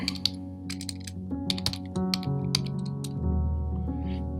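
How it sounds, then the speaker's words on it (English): Keys clicking on a computer keyboard while a note is entered into a ticketing system, a quick irregular run of close taps over a steady low hum. "So you can hit add, type in your note,"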